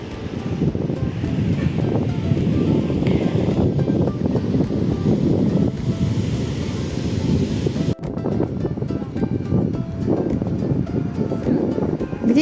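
Strong, steady wind rushes and buffets the microphone at a seaside picnic area, with distant surf beneath it. No one speaks.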